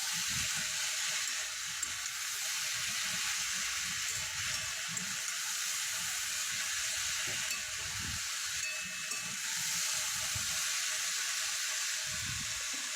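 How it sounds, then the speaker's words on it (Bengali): Fish fry in oil with a faint, steady hiss and sizzle, punctuated by occasional soft bubbling pops, heard at low level with no talking. "মাছগুলো একটু লাল লাল করে ভাজবো"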